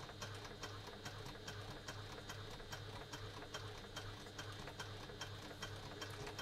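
A sewing machine runs slowly along a curved construction seam at a 3 stitch length, giving a steady, soft, rhythmic whir with regular ticking stitch beats heard close and alone.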